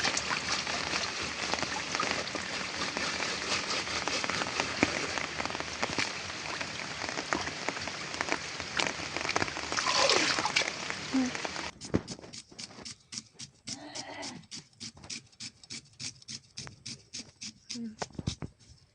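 Small mola fish being washed by hand in a bowl of water, with continuous splashing and sloshing that gives way to sparser, irregular drips and knocks, heard close up.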